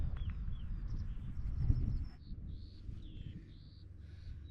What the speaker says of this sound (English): Got the butterflies and the skylarks just singing, which you can probably hear in the background.